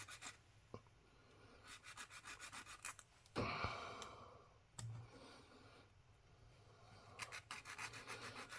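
A file rasps back and forth across the back of a coin to rough up the surface and strip off grease, in quiet, close, steady strokes broken by a few louder scrapes.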